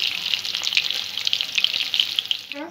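Pieces of shol fish sizzle steadily in hot oil in a pan, a close, dense frying crackle that runs unbroken with little pops and no voices.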